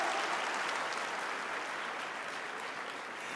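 Steady, dense applause from a church congregation at a worship service, sustained loud clapping throughout with no break.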